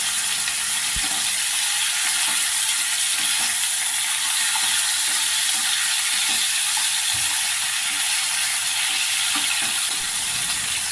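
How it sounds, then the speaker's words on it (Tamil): Chicken pieces sautéing in a pan for a Malai chicken masala, a steady loud sizzle and hiss with faint scraping from stirring, close and continuous without talk. "கொஞ்சம் நேரம் நல்லா வதக்கலாம்."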